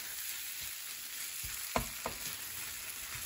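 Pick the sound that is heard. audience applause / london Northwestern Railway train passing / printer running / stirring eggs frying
stirring eggs frying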